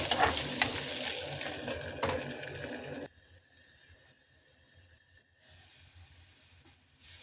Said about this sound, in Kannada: ಹಬೆನಲ್ಲಿ ಎಣ್ಣೆ ಒಳಗೆ ಇದು ಬೇಯಬೇಕು